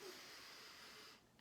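A long, deep inhale through the nose during yoga breathwork, a steady airy rush held close to the microphone for over a second before a brief pause and a sharp breathy burst.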